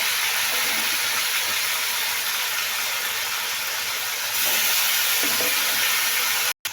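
Tender, already-cooked mutton sizzles steadily in a pot while Eid pulao is being made, a continuous close hiss with no voices, growing slightly louder partway through before cutting off abruptly at the end.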